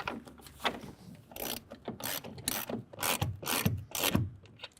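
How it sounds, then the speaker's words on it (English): Ratchet wrench with a 9/16 socket tightening a bolt while fitting a soft roll-up tonneau cover to a 2024 Jeep Gladiator, giving bursts of rapid clicking strokes that come close and fairly loud, with no talk. "We're going to use a 9/16 socket to tighten that down."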